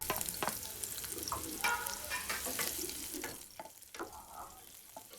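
Boiled tomato puree goes into a hot frying pan for a Malvani tomato saar and is stirred, a soft sizzle with scraping spoon strokes and wet splats, close and moderately quiet, easing off toward the end.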